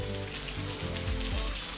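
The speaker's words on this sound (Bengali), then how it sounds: "চলো বৃষ্টিতে ভিজি।" Rain falls steadily as a constant hiss, with soft melodic music playing over it throughout and no voices.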